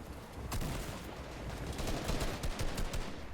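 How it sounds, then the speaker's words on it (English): Rapid gunfire from the Fortnite battle, with players gliding in under fire: dense, crackling volleys of shots and scattered sharp reports, rather quiet and continuous throughout. "They're gliding and getting shot at."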